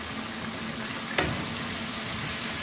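Black pepper chicken with green chillies frying in a pan, a steady broadband sizzle throughout with one brief sharp clink near the middle, close and moderately loud.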